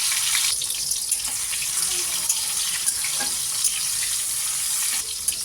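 Chopped tomato frying in hot oil with bay leaf and whole cumin, a steady broadband hiss and sizzle that runs evenly throughout with faint small crackles.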